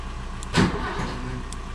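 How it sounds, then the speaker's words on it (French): A 1975 BMW 5 Series with a newly replaced ignition lock switch makes one short, loud cranking burst as a start is attempted, then settles into a steady low mechanical hum and rumble. "Et maintenant, on tente de démarrer."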